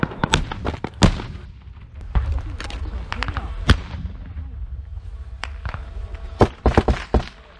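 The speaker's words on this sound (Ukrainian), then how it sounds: "На пропозиції здатися російські солдати кидають гранату бійців української армії" Grenade blasts and gunfire during a trench assault in combat, with sharp loud bangs scattered irregularly across the scene, several close together near the end, over rumbling battlefield noise.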